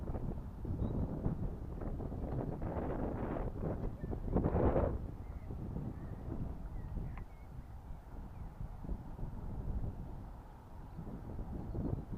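Wind blows across an open glider launch field, a steady low rumble buffeting the microphone with gusty swells, no voices present.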